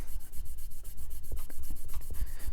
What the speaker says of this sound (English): let's polish up our phosphor bronze washers. How I like to do that is get my strop here